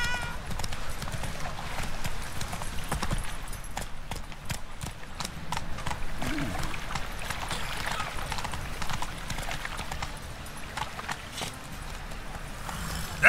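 The horse Roach galloping in the video game The Witcher 3, with a rapid, steady clip-clop of hooves under a constant rumble of game ambience, lasting the whole stretch.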